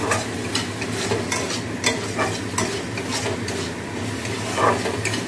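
Steady sizzling of pomfret fish and mustard-paste masala frying, with a utensil stirring and scraping in a pan, continuous and close.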